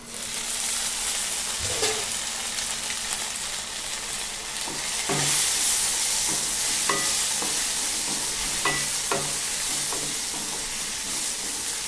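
Okra and tomato sizzling and frying in a pan as a utensil stirs them, with steady hiss and repeated scraping strokes close up, no voices.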